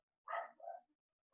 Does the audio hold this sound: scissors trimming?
no